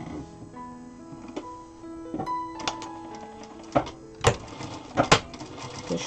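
A Zoje ZJ9703AR-D4J/02 industrial sewing machine stitches shoulder seams on a small doll's sleeper, giving short mechanical runs broken by sharp clicks and clacks from the machine, close and fairly quiet with no talk.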